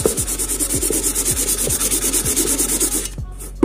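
Rhythmic sanding strokes rasp back and forth on a leaking metal pot, about a dozen even passes close up, then stopping.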